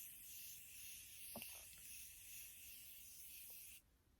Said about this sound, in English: I am going to use my favorite setting spray.